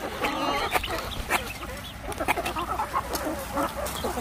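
Chickens clucking and squawking in a noisy commotion on a farm at mealtime, a dense, busy chorus of overlapping calls close by.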